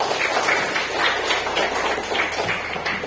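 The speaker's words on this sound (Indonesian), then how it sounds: "oke, tepuk tangan lagi kita semua" A class applauds briefly, the clapping moderate and slightly uneven over a few seconds.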